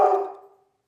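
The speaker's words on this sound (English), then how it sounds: "Oh, there goes my dog, which means we probably have a delivery." A Golden Labrador Retriever, a young female, lets out one loud close bark that fades quickly into silence.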